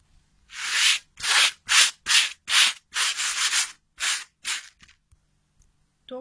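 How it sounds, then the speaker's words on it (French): A grooming brush swept over a horse's coat in about ten quick, separate strokes, each a crisp close scratching rush with short silent gaps between, no voices. "après le passage de la brosse"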